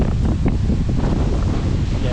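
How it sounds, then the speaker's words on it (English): Wind gusting through a recreational nature park, a loud continuous rumbling buffeting the microphone, with brief voices faintly mixed in. "And windy."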